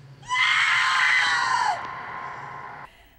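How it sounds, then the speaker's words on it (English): A woman's operatic scream from a horror film, one long sustained high wail that rings out loud and then drops to a softer tail before cutting off. "screams that are more operatic"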